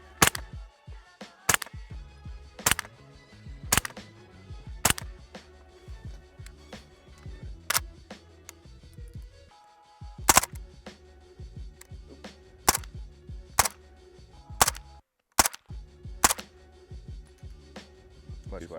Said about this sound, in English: listen for that after crack that happens after the shot